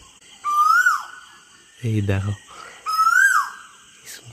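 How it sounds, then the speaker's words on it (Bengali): An Asian koel in a mango tree gives two loud rising whistled calls a few seconds apart, close by, with a short spoken phrase between them. "কোকিলের ডাকটা শুধু দেখো"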